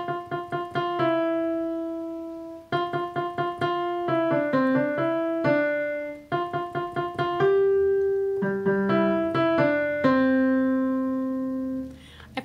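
Song from a Lego movie played on piano at full speed, a bright, repeated-note melody in several phrases of quick staccato notes and held tones, solo and fairly clear.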